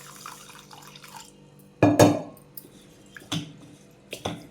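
Rice is washed under running water, heard as brief splashes and swishes in several quick bursts against a quiet kitchen background.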